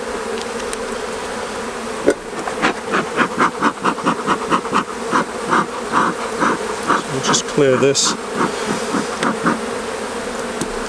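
A loud, steady hum of many honeybees at an open hive fills the air up close during an inspection, and someone speaks briefly over the swarm.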